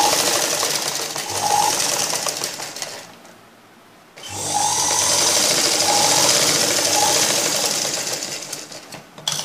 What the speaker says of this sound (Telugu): ఈ విధంగా మెడ భాగానికి క్రాస్గా తీసుకొని ఈ కింద భాగాన్ని ఈ విధంగా కుట్టుకోవాలి.